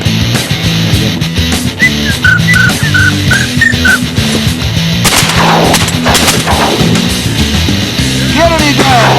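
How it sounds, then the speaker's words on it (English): Shotgun fire from a bird hunt in Argentina: several loud sharp reports ring out among hunters' shouting, with a dog barking and whistles, everything close and busy. "Shoot them and flare them this way."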